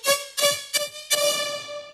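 A Serum synth lead patch without its comb filter plays four bright, buzzy notes: three short stabs followed by a longer sustained tone, clean and alone.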